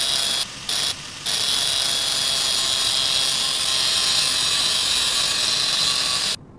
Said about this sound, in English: Get to use a grinder.